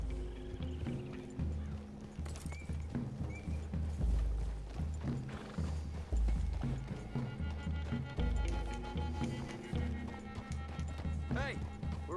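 Horse hooves clip-clop through a wooded clearing in Red Dead Redemption 2, a steady rhythmic plodding under game music and voices of riders talking throughout.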